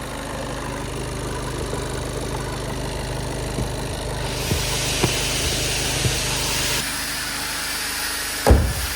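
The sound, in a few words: Seat Leon car idling in traffic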